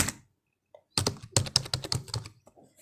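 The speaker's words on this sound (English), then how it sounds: "I will type here software developer." A computer keyboard typed on in a short burst of crisp, close clicks after a brief silence, tapering off into a few lighter taps.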